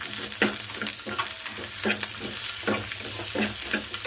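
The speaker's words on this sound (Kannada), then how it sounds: "ಇದು ಉಳ್ಳಾಗಡ್ಡೆ ಏನದ ಹಸಿ ವಾಸನೆ ಹೋಗೋವರೆಗೂ ಹುರ್ಕೋಣ." Chopped onion fries in hot oil with cumin seeds and curry leaves, a steady close sizzle broken by rhythmic scrapes and taps of a spoon stirring the pan.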